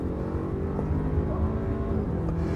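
An Audi A6 quattro ultra with a 2.0 TFSI 245 hp engine accelerating hard, a loud, dense, continuous engine roar heard from inside the car with no gaps or talk.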